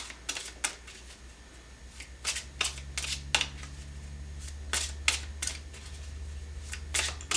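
Tarot cards riffle and snap in a string of crisp, close bursts, shuffled and drawn one at a time over a quiet low hum, with short pauses between the flurries.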